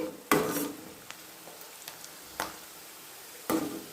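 Onions sautéing in a pan for egg thokku, a low soft sizzle broken by a few sharp spatula scrapes and taps against the pan, spaced irregularly and close.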